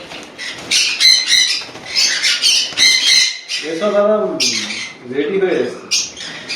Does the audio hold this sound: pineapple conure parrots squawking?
yes